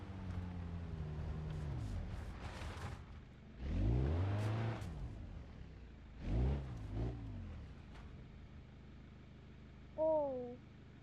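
An Opel Astra on an off-road test track revs in several separate bursts, each engine pitch climbing and falling as it accelerates, with quieter idling between; a faint whine appears near the end.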